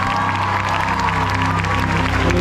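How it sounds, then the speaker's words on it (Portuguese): A crowd at a youth rally in Salvador, Bahia claps together, a steady, dense wash of applause that fills the space and carries on unbroken. "Uma salva de palmas para Jesus."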